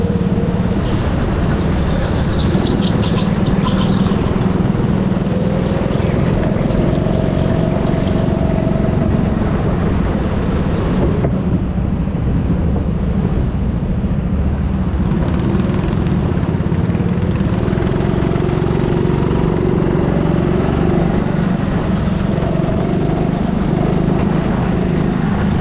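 Go-kart engines drone loudly and continuously around the indoor TeamSport Warrington track, a dense buzzing roar with slight rises and falls in pitch as karts accelerate.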